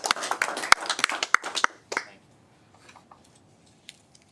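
A brief burst of clapping from a small group at a school board meeting lasts about two seconds, individual hand strikes standing out, then drops away into near silence with a few faint stray sounds.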